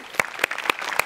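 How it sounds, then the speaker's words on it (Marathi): Sparse applause from a comedy show audience for a female performer on a Marathi stage, a few separate claps evenly spaced, fairly faint rather than a full ovation. "एकदा जोरदार टाळ्या मॅडम साठी झाला पाहिजेत"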